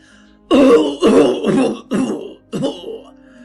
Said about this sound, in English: erupted in a brief fit of coughing